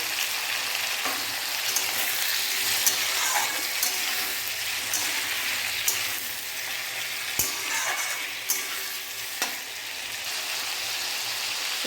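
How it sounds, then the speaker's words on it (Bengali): Chopped tomato going into a pan of fried onions brings a constant crackling sizzle, broken now and then by stirring scrapes and light clinks, with no voices. "পেঁয়াজ ভাজা হয়ে গিয়েছে। এর মধ্যে দিয়ে দেবো টমেটো কুচি।"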